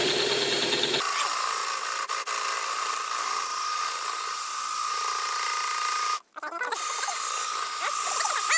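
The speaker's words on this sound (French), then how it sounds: "c'est une vidéo où on explique comment enlever une vis avec une perceuse" A power drill works at a stuck screw on a Renault Trafic van, giving a loud, continuous high whine that runs for several seconds, breaks off in one brief gap, then starts again.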